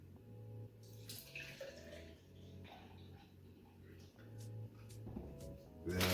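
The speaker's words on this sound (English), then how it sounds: "So I put 9 ounces of milk." Milk is poured into a BlendJet 2 portable blender in a soft, steady liquid trickle, with faint handling clinks and a low background hum, quiet and close.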